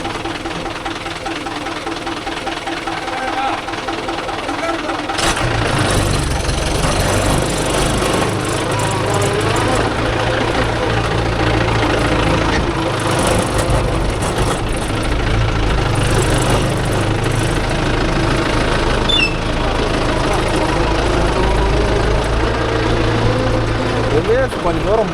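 A fully loaded Mahindra 575 DI tractor in second gear, hauling a trolley of old house bricks, runs with a loud, steady low engine drone that rises sharply after a quieter start and holds throughout, with voices talking over it.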